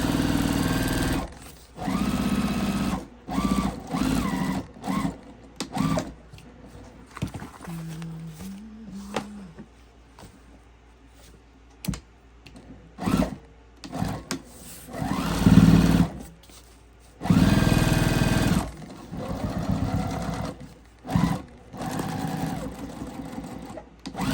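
A sewing machine stitching through thick layers of a crossbody bag with a walking foot, running in several loud bursts separated by short pauses, and a few quiet handling sounds between the runs.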